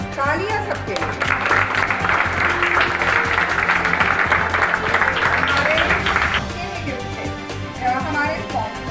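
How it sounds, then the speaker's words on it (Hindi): Applause for everyone at a Lions Club of Chembur Icon event with a medical camp and chess competition: steady crowd clapping for about five seconds, then stopping abruptly, with talking and other sound underneath throughout. "तालियां सबके लिए।"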